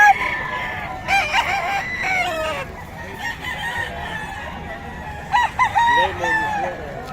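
A Lemon Sweater gamefowl rooster crows loudly and close, twice, with clucking and faint voices in the background.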